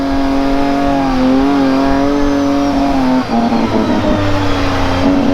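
A turbocharged UTV engine revs hard and loud up close, its pitch climbing steeply, dipping briefly at the shift into second gear, then pulling upward again.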